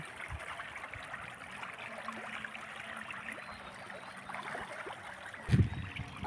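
Thai pangas fingerlings feeding in pond water make a faint, continuous trickling of small splashes, with one louder splash near the end.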